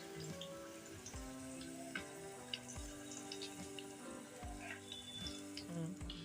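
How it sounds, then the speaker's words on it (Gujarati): Hot tempering with chillies poured over rava dhokla gives a soft, crackling sizzle that stays quiet and steady, with faint tonal background sound underneath. "હવે બધો વઘાર આપણે અંદર ઢોકળામાં નાખી દઈશું"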